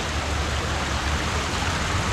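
Waterfall in Northern Michigan, a loud, steady rushing roar of falling water heard up close and alone, without voices.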